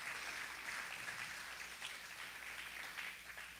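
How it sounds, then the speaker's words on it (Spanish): A church congregation applauds during a worship service, a steady, faint wash of clapping that keeps going from start to finish without speech over it. "¿Por qué no le das un aplauso al Señor?"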